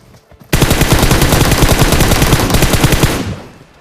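Sustained burst of automatic gunfire from PUBG Mobile, loud and close, firing steadily for about two and a half seconds before cutting off and fading; no vehicle engine stands out beneath the shots.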